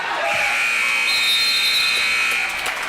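A steady electronic basketball game clock buzzer sounds loud and sustained over crowd noise at a girls' varsity game, holding its tone for nearly three seconds.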